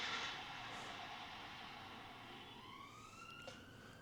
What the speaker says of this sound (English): That's a police car. That's weird sirens.